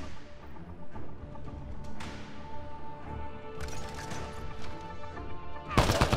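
Sustained gunfire and crashing impacts in a Mass Effect Andromeda firefight against a cloaking enemy, a steady dense clatter of shots with a louder burst near the end.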